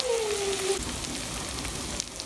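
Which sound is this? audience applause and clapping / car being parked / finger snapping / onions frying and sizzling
onions frying and sizzling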